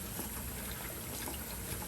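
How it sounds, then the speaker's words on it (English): Water and soapy water swish steadily as laundry is worked by hand in a sink, a continuous close wash of liquid noise with no pauses and no talk. "Let's just work some more water and soapy water through it here."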